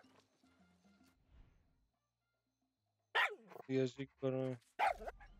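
A dog barks in the video game Far Cry 6, with quiet game sounds at first and then short, loud bursts mixed with players talking close to the mic.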